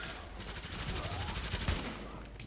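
Gunfire from a shotgun in the video game The Division crackles in a dense, rapid burst of repeated shots lasting a couple of seconds, fairly close and loud, with no talking over it.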